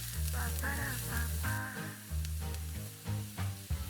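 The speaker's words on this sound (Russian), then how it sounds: "Добавляем морковь к луку. Обжариваем до полумягкости." Carrot is frying with onion in a pan, a soft steady sizzle that runs the whole time under louder background music.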